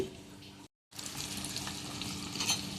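Eggs frying in masala in a pan, a steady close sizzle and crackle that cuts out for a moment and then carries on, with no voices.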